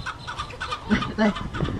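Chickens cluck in a coop holding about 120 birds of roughly 8 to 10 breeds, several short close clucks and calls overlapping in quick irregular bursts, with no talking.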